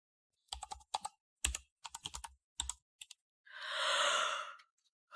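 Late-night typing on a computer keyboard: several quick bursts of crisp key clicks separated by short pauses, then a long, weary sigh, all close and quiet.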